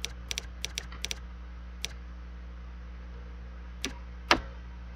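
Keys on a computer keyboard are tapped in short, sparse bursts, a few quick clicks and then isolated presses spaced out over a low steady hum.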